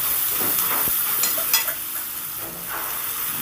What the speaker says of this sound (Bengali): সামান্য জল দিয়ে মশলাটাকে পেঁয়াজের সাথে কষিয়ে নেব